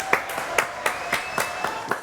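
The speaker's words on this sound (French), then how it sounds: "Applaudissements pour Paul Sanders" An audience applauds for Paul Sanders at a live show: steady, evenly spaced claps from a small group, moderately loud and close, with no talk over them.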